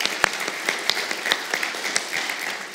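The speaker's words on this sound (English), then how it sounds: "Please give Hannah a round of applause." Church congregation applauding during an Easter Sunday service, a steady wash of many hands clapping at moderate loudness with scattered sharper claps, continuous through the short stretch.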